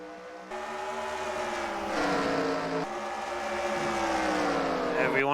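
Race cars roar off at the green flag for a 10-lap heat race at Eldora Speedway dirt track, a dense, rising engine drone from a pack of cars, steady and loud, with a commentator talking over it.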